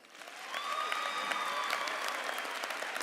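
Audience applause at a First Coast High School commencement for newly introduced guests, a dense steady wash of many hands clapping that swells in quickly and holds at moderate loudness, somewhat distant in a large venue.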